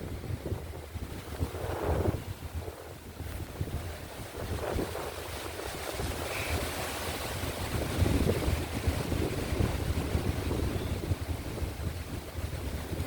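Steady wind rushes past a boat at sea, a continuous broadband roar with waves and water noise underneath and gusty buffeting against the microphone, with no speech throughout.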